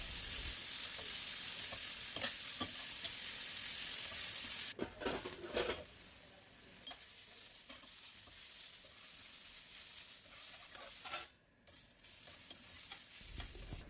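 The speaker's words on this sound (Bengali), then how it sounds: "সব বিটগুলো দিয়ে ওর সঙ্গে লবণ ও হলুদ দিয়ে একটু নাড়াচাড়া করে 5 মিনিটের জন্য ঢাকা দিয়ে" Beetroot fries with salt and turmeric in mustard oil, a bright hissing sizzle at first that drops to a quieter crackle, with scattered clicks and scrapes as it is stirred in the pan, no speech.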